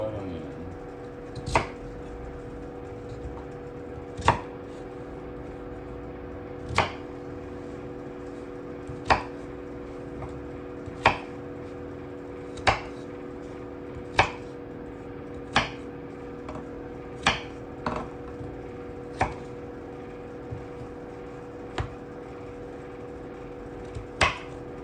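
Knife chopping purple sweet potato on a chopping board, a stew ingredient, in sharp, evenly spaced strikes about every one to two seconds over a steady background hum.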